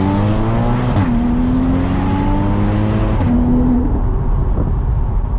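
A Porsche's naturally aspirated 315 hp engine with PDK gearbox revs hard and loud, its pitch climbing steadily then dropping sharply at two quick gear changes, with a continuous gritty exhaust roar underneath.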